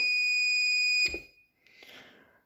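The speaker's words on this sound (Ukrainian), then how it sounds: "Він просто почав пищати, навантаження на виході відключилось." A UPS running on a Li-ion 4S battery sounds a loud, sustained electronic alarm beep for about a second as its output load cuts off, then a soft click and a brief faint hiss.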